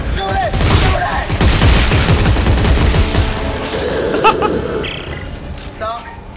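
Rapid bursts of gunfire from Dead Space 3 as a monster is shot, loud volleys of automatic shots filling the first few seconds, with a voice shouting over them before the firing thins out.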